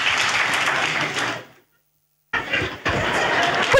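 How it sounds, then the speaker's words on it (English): Church congregation clapping for Jesus at Kakande Ministries, loud, dense clapping that cuts out completely for nearly a second, then resumes just as strongly. "Can we clap for Jesus?"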